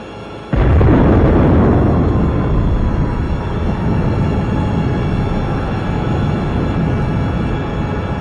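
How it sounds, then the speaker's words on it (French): A sudden loud explosion hits after a short lull, destroying a mansion, then a long rumbling roar and debris noise that slowly decays but stays heavy. "Une explosion détruit entièrement l'hôtel particulier"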